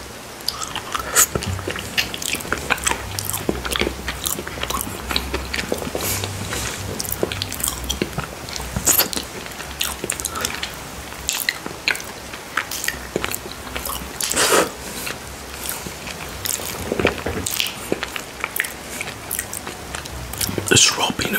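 Up close, wet licking, smacking and chewing sounds come from someone eating raw peanut butter off a spoon, with constant sticky clicks and squishes and a faint hiss of rain underneath.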